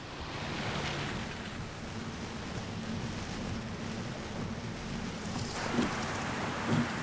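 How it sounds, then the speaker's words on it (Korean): Heavy rain pouring down during a heavy-rain warning, a dense, steady hiss with no break, heard close and loud, with a couple of faint knocks near the end. "호우주의보라잖아요."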